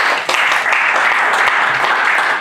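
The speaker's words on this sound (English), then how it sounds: "Let's give him a clap as it comes" An audience at a pig farming training session claps, a brief, steady burst of dense, fairly loud applause from many hands, close and continuous, with no talk over it.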